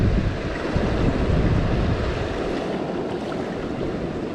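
Steady wind roars and buffets the microphone beside an Arkansas creek during fishing, a dense continuous rush with no pauses throughout.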